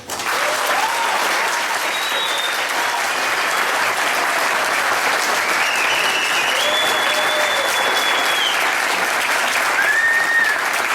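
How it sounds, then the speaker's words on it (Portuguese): Sustained, loud applause from a large crowd after a speech at a Praia Limpa 2015 event in Torres fills the whole stretch, with faint whistles and cheers rising above the clapping. "Pode aplaudir mais forte."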